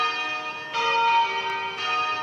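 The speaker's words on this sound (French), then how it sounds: "Tous les jours, les cloches vont sonner pendant 10 minutes." Church bells ring at noon at St George's Anglican Cathedral in Cape Town, with clear, sustained tones and a new strike landing every second or so over a ringing hum, with no talking.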